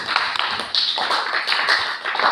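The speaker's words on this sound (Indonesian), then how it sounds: "Oke, tepuk tangan dulu untuk kelompok 1." A small group in a classroom claps steadily for a student group, a dense patter of hand claps close by, lasting the whole moment without voices.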